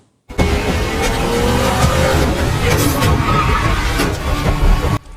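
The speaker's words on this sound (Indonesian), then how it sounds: "Saat ia berlari, tiba-tiba sebuah mobil menabraknya." A car in a John Wick film speeds in loud and close, engine roaring with tyres squealing and skidding throughout, before it strikes a man; the sound cuts off abruptly at the end.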